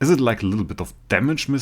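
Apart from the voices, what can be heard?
None of the usual background noises is heard.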